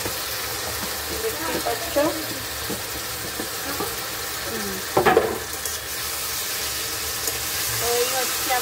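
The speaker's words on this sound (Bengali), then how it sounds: "ওই হচ্ছে আমার চিকেনটা কষানো হবে, কষানো শুরু হলো।" Marinated chicken fries loudly in a pan, its steady sizzle broken by scraping stirs, with one sharp clatter in the middle, while someone talks over the cooking.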